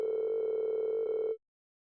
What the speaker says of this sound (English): Why are they ringing the bell this late?